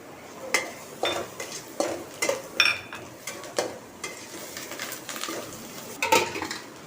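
A spoon scrapes and clatters against a pan while sautéing a bhaji tempering with chili powder and coriander, repeated irregular metallic stirring strokes, close and loud over a faint sizzle.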